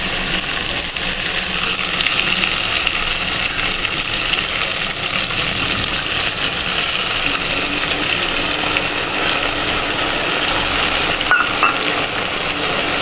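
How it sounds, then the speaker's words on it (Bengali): Fried tomato with spices added sizzles loudly in a pan for an egg curry with raw banana, a dense, continuous hiss and crackle close up, steady throughout with no talking. "টমেটোটা লাল করে ভাজা হয়ে গেছে, আমি সমস্ত মশলাগুলো দিয়ে দেব।"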